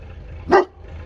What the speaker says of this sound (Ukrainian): Ти чого гавкаєш? Хтось ходить?